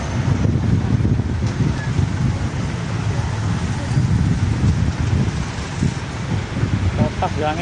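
Strong, gusty wind roars outdoors beside a burning plastic factory in Lamongan, a dense, continuous buffeting rush with heavy low rumble hitting the microphone throughout.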